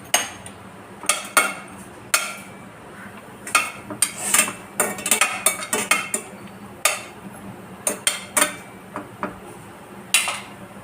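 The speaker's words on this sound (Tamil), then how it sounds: "இது ஹீட் ஆன உடனே இதில் வந்து முந்திரி பருப்பை வறுத்துருவோம்." Cashew nuts roast in a pan for rava kesari, stirred with a metal spoon, producing many sharp, close clinks and scrapes in an irregular rhythm over a low background sizzle, with no talking.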